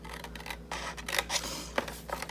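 Scissors trim material in a few quick, crisp snips close up, short scraping cuts spaced irregularly against a quiet room hum.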